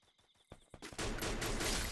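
Gunfire in the Free Fire battle-royale video game starts as a few sharp, spaced shots and then bursts into a loud, sustained volley of rapid fire that continues to the end.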